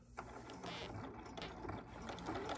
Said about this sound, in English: I'm gonna put my presser foot down, back stitch, and then I'm gonna go forward.